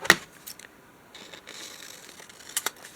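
Scissors snip through paper at a craft table while a junk journal page comes together: a sharp close click at the start, then a few light scattered snips and a soft slide, ending with two quick cuts, faint and alone.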